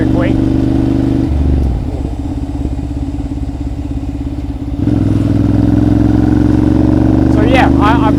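A second-hand motorcycle is ridden in Thailand, its engine droning steadily and close by, dipping in pitch in the middle as it shifts and then pulling strongly again, under continuous talk.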